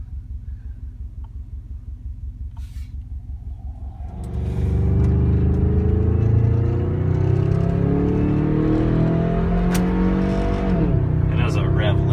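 A 1986 Subaru with a swapped 2.5 engine and automatic transmission idles with a low, steady rumble, then is revved hard into a loud, sustained roar with rising and falling engine pitch.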